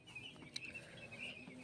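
Small domestic chicks a few days old peep in a coop, a thin run of high chirps repeating faintly and continuously at close range, with no talk.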